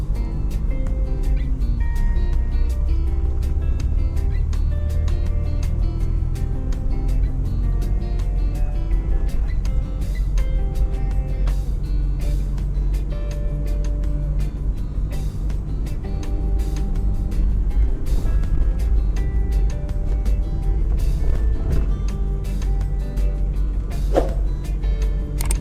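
Car driving through the Grey Ground area of Manchester, Jamaica, heard from inside as a steady loud low engine and road rumble with faint rattles and creaks, no one talking.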